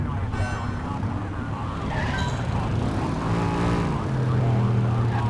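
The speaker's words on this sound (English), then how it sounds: "Get on their tail and flip the siren." A police car siren in a video game wails over a steady engine drone, its rising and falling tone fairly loud and continuous, with no talk.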